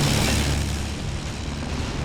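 A bomb explosion in the Men of War: Assault Squad 2 video game: a broad, loud roaring blast that fills the short moment and then rumbles on with a slowly fading low boom.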